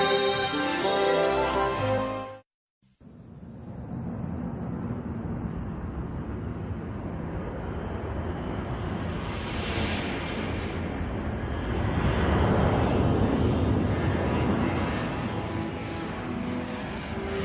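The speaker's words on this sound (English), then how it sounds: "A C-141 lifts off from Thule Air Force Base." A C-141 transport aircraft taking off from Thule Air Force Base in the Arctic, a loud continuous jet roar that swells and holds, heard from a distance amid wind buffeting.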